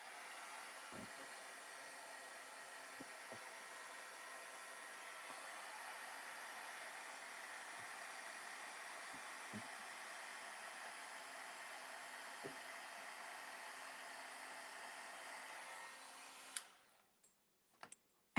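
A heat tool blows over embossing powder on a handmade card, making a faint, steady whirring hiss with a few small clicks underneath; it runs on for most of the stretch before shutting off near the end.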